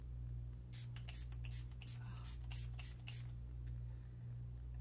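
Facial mist sprayed onto the skin, a string of about seven short hissing spritzes in quick rhythm over a steady background hum, close and fairly quiet.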